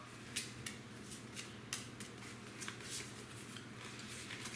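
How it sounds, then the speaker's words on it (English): Soft papery riffling of Thunderstone Quest game cards being shuffled, a series of quick crisp bursts over a steady low background hum. "we need to shuffle our discard pile"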